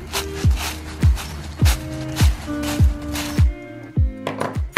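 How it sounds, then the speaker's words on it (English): Footsteps crunching through dry autumn leaves on a morning walk, about nine steady crisp crunches at a regular walking pace, close and loud. "crunching those autumn leaves"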